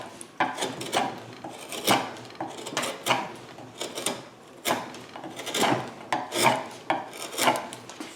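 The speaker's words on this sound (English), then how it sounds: "Here's my good chisel." A sharp chisel carves a tough area of violin wood, close and dry, in repeated rasping strokes arriving in uneven bursts about once a second with brief pauses between.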